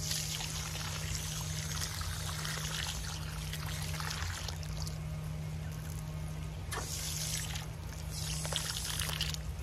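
Water pours steadily and hard onto the soil around a freshly planted fruit tree, a continuous close rushing flow with slight shifts in intensity.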